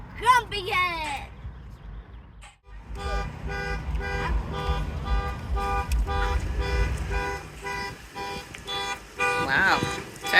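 A car alarm sounds in steady repeating tonal pulses through most of the stretch, with a person talking briefly at the start and over the alarm, plus traffic rumble around.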